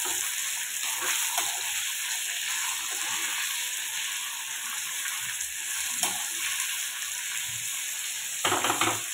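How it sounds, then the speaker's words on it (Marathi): Small ingredients frying in a pan for paneer chilli, a steady close sizzle with soft stirring scrapes and brief louder bursts throughout. "ते पण छान असे ह्याच्यामध्ये आता फ्राय करते."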